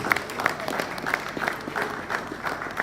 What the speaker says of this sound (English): keep clapping until she gets back to the seats